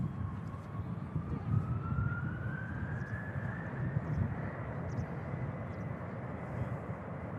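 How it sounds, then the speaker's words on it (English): Aer Lingus Airbus A330 rolls for takeoff at Manchester Airport, a loud, steady jet engine roar with a rising whine heard from a distance, continuous throughout with no talking. "Aer Lingus 330 is starting its takeoff roll now."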